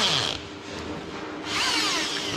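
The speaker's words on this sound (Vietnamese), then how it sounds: "bọn mình sẽ dùng máy khoan, mình khoan ra" A power drill bores out a core of dried soil, whining loudly and steadily up close, easing briefly in the middle before revving back up, with no talk.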